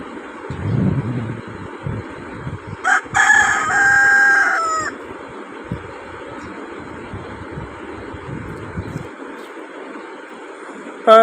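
A rooster crows once, fairly close, its rising and falling call standing out over faint background chatter and rustling in a Pakistani village home courtyard.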